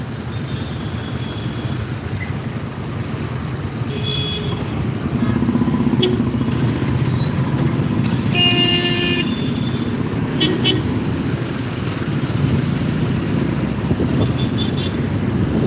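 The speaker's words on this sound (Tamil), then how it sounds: "செம்ம டிராஃபிக்கு" Dense road traffic with motorcycles and cars passing steadily nearby, a car horn tooting briefly partway through, all under continuous engine rumble with people talking over it.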